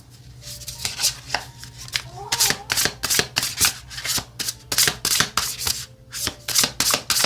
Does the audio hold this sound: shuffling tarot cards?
yes